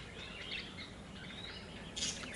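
Wild birds gather for food in the morning on a rural Thai property, giving faint, scattered chirps and short calls at a distance over steady outdoor ambience, with a brighter burst near the end.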